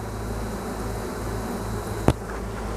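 Crowded honeybees packed bee on bee inside a hive give off a dense, steady buzzing hum from close by, with a single sharp click near the end.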